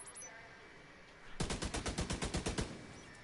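Automated turrets in a video game open up with a rapid burst of about a dozen loud, evenly spaced shots, following a quieter stretch.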